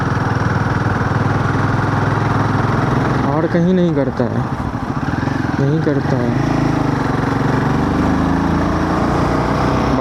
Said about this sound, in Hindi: भाई इस घाटी पे इतना आवाज़ क्यों करता है मेरा बाइक अजीब जैसा?